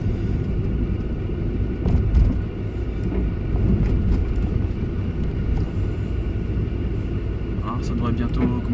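A 1.3-litre 4G13 engine in a Mitsubishi Colt idles steadily at about 1000 rpm, with a constant low rumble throughout and people talking over it.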